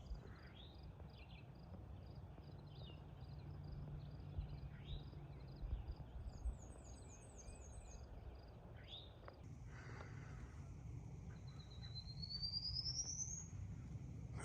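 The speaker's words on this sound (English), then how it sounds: "I've been hearing that bird for miles and miles." An unidentified bird calls along the Appalachian Trail in New Jersey, faint thin whistled notes repeating over a quiet outdoor background, with a rising whistle near the end.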